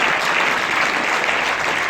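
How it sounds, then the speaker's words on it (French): An audience applauds at a town hall award ceremony, steady dense clapping that stays even and loud throughout without pause. "Donc on peut l'applaudir aussi"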